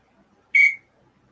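A single short, shrill whistle blast, loud and close, sounding alone against near silence.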